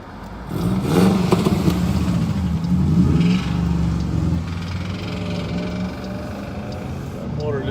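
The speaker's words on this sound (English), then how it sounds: "That motor didn't sound too good." A car engine with a rough, unhealthy-sounding motor revs and rumbles close by for several seconds, then settles to a lower drone, with voices partly over it.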